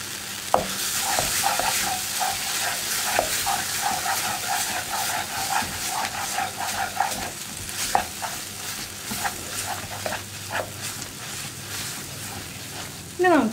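Tomato masala with curry leaves sizzling and frying in a pan, with repeated scraping strokes of a spoon stirring through it, steady and close, and a voice talking faintly in the background.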